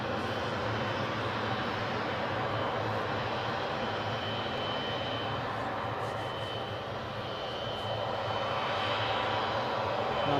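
A Beechcraft 200 turboprop plane inbound from Luton, heard as a steady, continuous engine roar holding at an even level throughout, with no talk over it.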